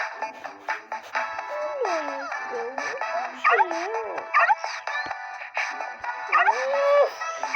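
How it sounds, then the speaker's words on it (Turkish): A dog whimpers and whines in repeated rising and falling cries, close by, with a few short yips mixed in. "Ama bu köpek bizde kalacak."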